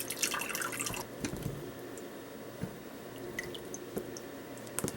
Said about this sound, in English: I'm gonna pick up that glass, work on pouring that meat juice